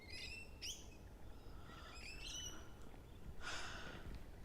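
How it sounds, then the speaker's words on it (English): Several birds chirp and squawk in quick bursts, some sharp and some harsher, over a low outdoor background rumble by a river in a country town. "And noisy birds."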